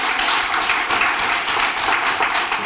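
An audience claps steadily at a regional municipal anniversary event, a dense, loud, close wash of applause that holds evenly for the whole stretch with no voices over it.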